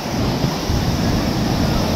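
Ocean waves roll onto the beach at Puri, a loud, continuous surf wash mixed with heavy wind buffeting the microphone.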